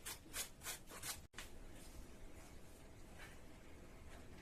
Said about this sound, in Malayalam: ക്യാബേജ് ഒക്കെ നന്നായിട്ട് തന്നെ കൊത്തി അരിഞ്ഞെടുത്തിട്ടുണ്ട്.